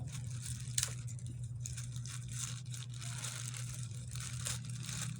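Dull scissors cut and tear open plastic packaging on a tarot card deck, a close, fairly quiet run of rough crinkling and ripping over a steady low hum, with no talk.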